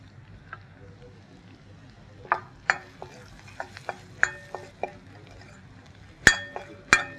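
Shallots and pepper powder stirred in a pan for vendhaya keerai kuzhambu, a spoon clinking and scraping in sharp separate strikes over a faint low sizzle, close by and fairly quiet.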